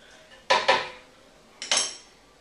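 Almond butter spooned into a high-speed blender jar, heard as two pairs of sharp clattering knocks of spoon against the container, close and fairly loud, with quiet pauses between and no talking.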